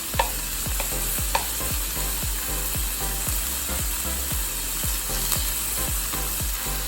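Bacon pieces fry in a pan for a carbonara ramen, a constant sizzle broken by quick, regular scraping strokes as the strips are pushed apart.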